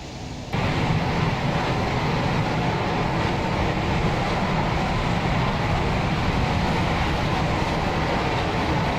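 An F-16 jet engine at full throttle in the Prepar3D flight simulator gives a dense, steady roar that swells suddenly after a quiet first moment and then holds loud and unbroken throughout.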